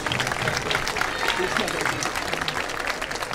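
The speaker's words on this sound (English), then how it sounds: "I'll have a big round of applause for Don Lasoa" A crowd at a baseball pregame program applauds a volunteer, brisk clapping from many people mixed with voices and cheers.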